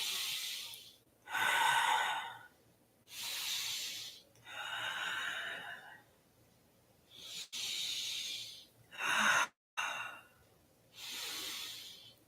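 Long drawn breaths during a yoga flow, five or six broad airy exhales and inhales in a steady rhythm with short pauses between, close and clear with no talking.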